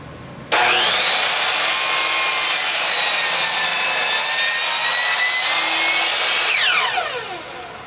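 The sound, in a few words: power tool cutting wood piece for R2-D2 part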